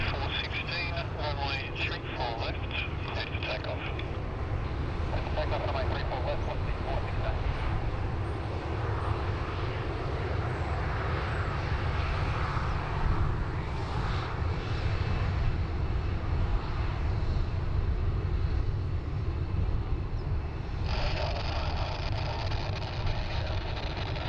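An American Airlines airliner takes off from Sydney Airport, its broad engine roar building and holding steady throughout, with a commentator talking over it.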